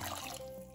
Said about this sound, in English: I'm also gonna add 1 cup of water